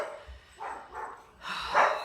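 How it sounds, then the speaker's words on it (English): Two dogs at a play date let out several quick, muffled barks and yips in irregular bursts, growing louder toward the end. "And now both of them are barking."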